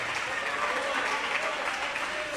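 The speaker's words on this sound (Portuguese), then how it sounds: "Se é para Ele, aplauda melhor aí dando glória." A church congregation applauds in praise, a full steady roar of clapping with a faint crowd murmur beneath it, loud and continuous throughout.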